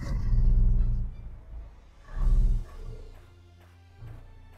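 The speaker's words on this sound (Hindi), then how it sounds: "अब आपको इंजन का साउंड सुनाते हैं।" Mahindra Bolero Pickup 1.3 engine running, a low rumbling idle that swells in two loud revving bursts and then settles into a softer steady hum, close by with no talk.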